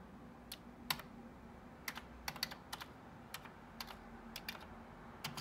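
Keys typed on a Commodore C64C computer keyboard running CP/M in 80-column mode: about a dozen sharp clicks in loose bursts, close and fairly quiet over a steady low hum, with no talking.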